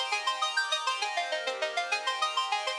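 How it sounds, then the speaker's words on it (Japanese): Nektar Bolt synthesizer tone with two oscillators tuned a fifth apart, playing a quick run of repeated bright notes in a steady pulsing rhythm, close and clear with no voices. "オシレーター2のピッチを5半音下げれば、このように5度の関係になります"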